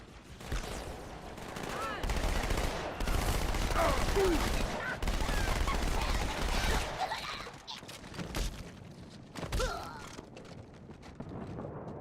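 Gunfire in Halo: Combat Evolved: dense rapid bursts of in-game weapons fire and explosions rattle on for several seconds, thinning into scattered shots, with a voice speaking partway through.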